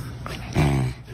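A dog lets out a short whimpering whine, close and fairly loud, in a single drawn-out cry of about half a second, with no talk over it.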